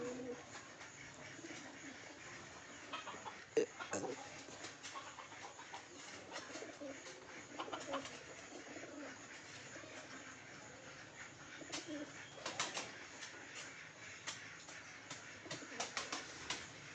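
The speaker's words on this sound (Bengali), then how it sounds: "দেখুন সব পায়রাগুলো ডাকাডাকি করছে।" Flock of pigeons cooing while feeding, soft murmuring coos layered over a steady background hiss, faint and distant with occasional small knocks and no clear talk.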